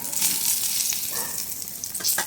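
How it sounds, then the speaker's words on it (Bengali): Brinjal (eggplant) slices frying in a pan give a steady, close hiss of oil with a few brighter crackles, no voices heard. "এখানে হচ্ছে বেগুন ভাজা"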